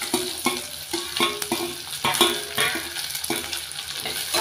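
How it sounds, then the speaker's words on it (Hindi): Onions frying in a pan for a lauki and chana dal curry, with a steady sizzle broken by regular scraping strokes of a spoon stirring them, close and moderately loud. "अब हम प्याज को गोल्डन ब्राउन होने तक हम इसको भूनेंगे।"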